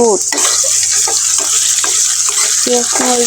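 Onions fry in a pan with a steady, close sizzling hiss, while a voice speaks briefly at the beginning and again near the end.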